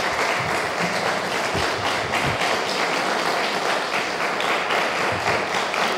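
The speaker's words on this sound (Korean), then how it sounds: "목사님 나오실 때 우리 박수로 환영해 드리도록 하겠습니다." Sustained applause from a church congregation at a Korean church's Sunday service in Rome, steady and dense throughout, welcoming the pastor to the pulpit.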